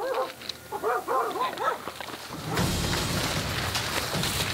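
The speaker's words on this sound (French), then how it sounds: "les aboiements des chiens les contraignent à attaquer plus rapidement que prévu" Several dogs bark in a quick series of yelps and woofs close by near a coca plantation, followed by a sudden surge of loud broadband noise that buries them.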